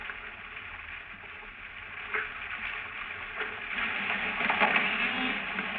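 Single fish calling underwater, captured on a Navy hydrophone recording: scattered faint clicks and grunts over a steady hiss of ocean noise, growing a little busier and louder toward the end.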